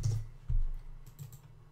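A few quick keystrokes clack on a computer keyboard up close, a short burst of soft taps and thumps with no talking.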